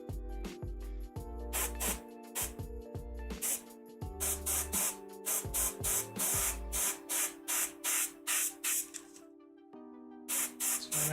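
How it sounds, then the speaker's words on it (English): Airbrush hissing paint onto a miniature in short repeated bursts, a steady mechanical tone underneath, close and fairly quiet, with rhythmic pulses toward the end. "a bit of overspray there"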